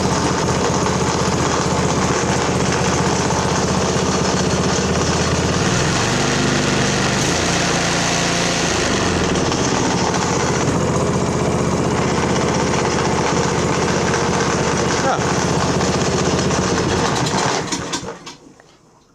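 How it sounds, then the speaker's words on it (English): A Craftsman 7hp 26-inch MTD-style snow blower running with its auger belt flapping, a loud steady engine drone with a rapid flutter over it and a brief shift in pitch midway, cutting off near the end. "the flappy noise from the auger belts is quite common on these machines"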